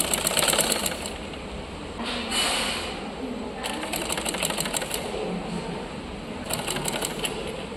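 A sewing machine stitches an Anarkali frock in close, steady runs of fast mechanical chatter with brief pauses between bursts.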